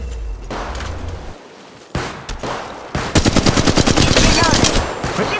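Rapid automatic gunfire in the Apex Legends video game, loud bursts that build into a dense, fast rattle of shots after a couple of sharp single blasts.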